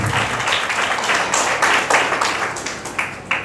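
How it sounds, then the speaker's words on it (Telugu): A church congregation claps hands in praise during a sermon, producing dense, continuous applause that fills the whole stretch with steady, loud rhythmic clapping and no talk. "చప్పట్లు కొట్టి ప్రభువుని స్తుతించండి."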